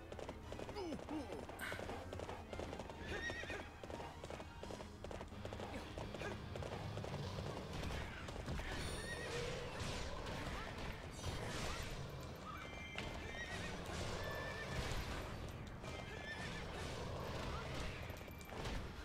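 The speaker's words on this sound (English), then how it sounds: "Oh, good horsey." Horse neighing and galloping hooves in the video game Hyrule Warriors: steady clip-clop with whinnies over dense game sound effects and music, with a voice talking briefly.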